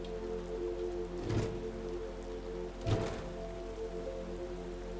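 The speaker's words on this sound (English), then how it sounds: "I could open all the windows and we can hear all the rain" Rain falling outside, heard through open windows of a home: a steady close patter and hiss of drops, with two brief louder swells, no speech.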